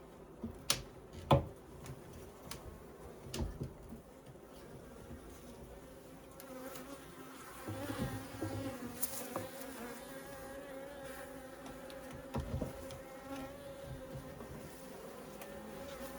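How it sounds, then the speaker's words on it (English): Bees buzz continuously around a hive, a dense droning hum with a few sharp clicks and knocks at the start. "Okay, lots of bees. Just lots of bees."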